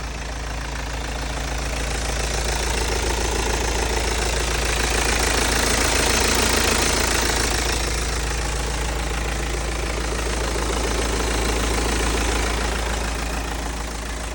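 A BMW 1 Series F20 118d diesel engine idles steadily and loudly, a constant low rumble with a slight swell in the middle and no voices.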